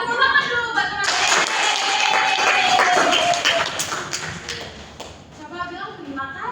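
A classroom of children claps for their classmates during a teaching simulation, a dense wash of many small hands lasting about four seconds, with voices and some talk around it before and after.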